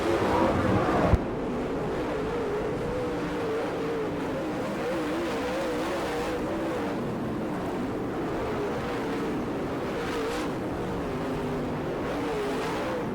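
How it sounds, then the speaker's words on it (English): Late model race cars at a dirt track in Gibsonton, Florida, roar in a steady, loud engine drone that holds without pause, coming at a distance with a brief louder burst at the very start. "Dan Sleeper and Davey Johnson battling wheel to wheel for the 3rd position as they're in turn 1."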